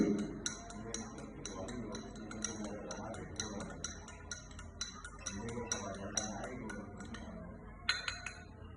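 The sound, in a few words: stirring sugar and water in a glass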